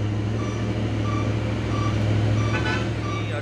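A Hino 500 trailer truck idles with a steady low engine rumble while its reversing alarm beeps at an even, repeating rhythm over the constant noise.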